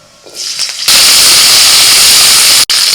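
Cauliflower florets hit hot oil in a wok and a loud, close sizzle bursts in just under a second in. It holds as a dense, steady hiss, with one brief dropout near the end.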